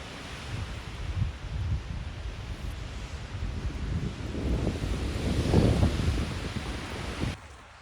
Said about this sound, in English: The wind is blowing hard.